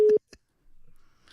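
An incoming call comes through on a phone line during a live football show broadcast, a short loud steady tone followed by a brief blip, then quiet with faint low rustling.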